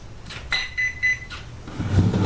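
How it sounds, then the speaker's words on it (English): A VKar Bison v3 RC car's electronics give three short electronic beeps at power-on, evenly spaced and close, followed by a low handling rumble at the end. "3 beeps"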